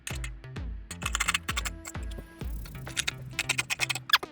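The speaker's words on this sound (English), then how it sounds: "So I'm going to cut out this part now." Scissors cutting fabric for a bustier gown, a quick run of close, crisp snips in a steady rhythm that speeds up toward the end.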